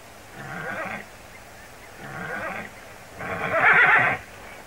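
A horse whinnies three times in a row, each call lasting about a second with short pauses between, the last louder and longer.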